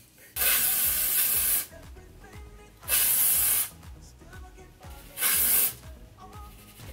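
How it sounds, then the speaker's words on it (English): Amika Perk Up dry shampoo is sprayed onto hair in three separate bursts, each a loud, close, airy hiss lasting about a second, with quiet pauses and faint background noise between. "This is the Amika Perk Up Dry Shampoo."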